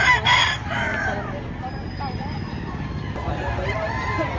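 A rooster crows at a busy chicken market in Padre Garcia, Batangas, over a steady crowd murmur and people talking, with other fowl calling in the background.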